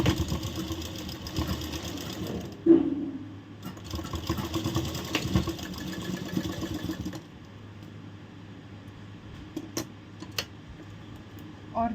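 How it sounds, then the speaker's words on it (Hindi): Sewing machine stitching the side seam of a princess-cut blouse, running in steady continuous bursts with a brief pause and then a quieter stretch with light clicks near the end. "हमारा जो दूसरा साइड है उसको भी हम इसी तरह रखेंगे और सिलाई लगा लेंगे।"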